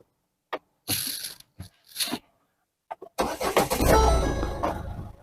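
A parked car's engine cranks and catches after a few short bursts of activity, then settles into a steady, close idle rumble.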